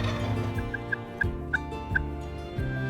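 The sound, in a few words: wild turkey gobbler gobbling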